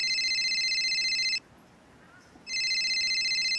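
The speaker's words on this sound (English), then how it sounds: "you get the most boring ringtone of all time" A plain, repetitive phone ringtone from a Gachaverse game, loud electronic beeping tones that cut out for about a second, then resume.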